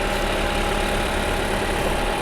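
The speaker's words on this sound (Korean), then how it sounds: "엔진 소리 일정하네요" A Lexus ES300h XV60 hybrid engine idling with the hood open, a steady, even hum with a faint whine, continuous and close, with no talk over it.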